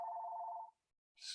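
A telephone rings indoors during a talk, a steady electronic trill lasting over half a second, then a brief silence before another short burst begins.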